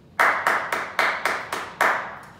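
A group at a martial movement session claps together in unison, seven sharp, evenly spaced claps, each decaying quickly, close and clear.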